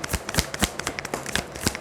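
Tarot cards are shuffled close up in a rapid, steady run of soft riffling flicks and slaps that continues throughout without talk.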